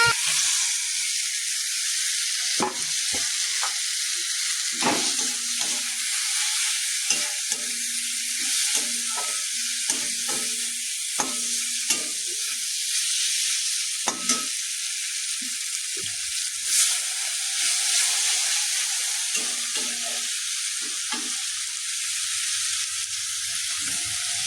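Mushrooms sizzle steadily in a pan of masala for butter mushroom curry as the water cooks off, with repeated scraping strokes of a spoon stirring throughout.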